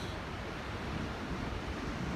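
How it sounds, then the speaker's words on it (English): Ocean surf on a beach at Old Orchard Beach, Maine, on a cool rainy day, a steady broadband wash of waves mixed with some wind rumble, with no talking. "There's the waves."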